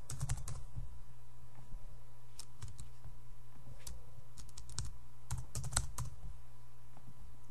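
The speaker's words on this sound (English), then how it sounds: "Just type in my password." A computer keyboard being typed on to enter a password, with quick irregular clusters of key clicks over a steady low background hum, close and fairly quiet.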